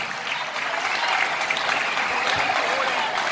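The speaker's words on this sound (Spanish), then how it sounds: "Fuerte el aplauso para estos campeones" Steady, dense applause from a crowd at an awards ceremony for the winners of a 21 km university race in Cancún, filling the short moment without a break.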